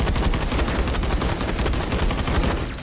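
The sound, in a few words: flak cannon firing in the video game Everspace 2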